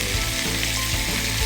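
Butter and thyme sizzle loudly in a frying pan with fish, a close, constant crackling hiss with steady texture and no voices over it.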